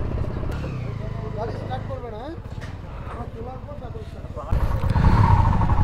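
Motorcycles are ridden off a river ferry at the end of a winter ride from Purulia to Kolkata, engines idling and revving nearby under a person talking, with a louder rising engine roar near the end.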